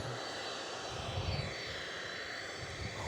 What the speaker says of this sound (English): We're going to stay fixed on this 747.